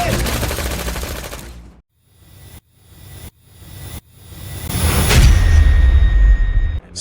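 Sharp bursts of gunfire from a space combat video game, loud sustained firing at first, then a few separate shots between short silences, followed by a heavy rumbling explosive swell.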